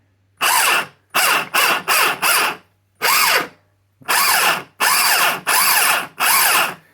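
Small electric motors in an upgraded RC tank, driven through new ESCs by a pistol-grip transmitter, whirring in nine short bursts of varying length with brief pauses between them, close and loud, with no talk.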